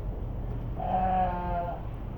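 A single sheep in a pen bleats once, a wavering mid-pitched call lasting about a second, over a low background hum.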